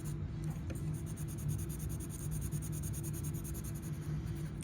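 Colored pencil shading on textured paper, a soft continuous close-up scratchy rubbing as the pigment is smoothed into the paper's tooth, quiet and steady with no voices.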